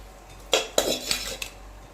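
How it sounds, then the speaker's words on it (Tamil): Metal spoon scraping and clinking against a pan while cooked rice is stirred into a spiced kaara soru mixture, a few sharp irregular knocks and scrapes close by, with no talk. "இப்போ நம்ம சாதம் போட்டு கிளறிக்கலாங்க"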